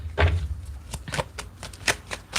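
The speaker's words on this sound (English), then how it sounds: "All right, let me get 4 more shuffles here." An Owl Tarot deck is shuffled by hand, giving close, crisp riffling bursts of cards in a quick irregular rhythm, with no voices over them.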